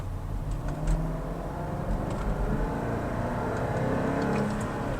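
An old Range Rover with an occasional misfire pulls away under throttle, its engine giving a low, steady drone and rumble heard from inside the cabin, a moderate, even roar with no talking.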